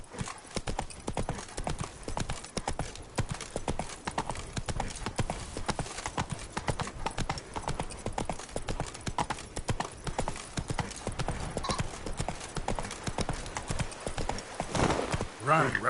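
Roach the horse gallops hard in The Witcher 3, a rapid continuous clatter of hooves with occasional whinnies, loud and close, mixed with other game sounds.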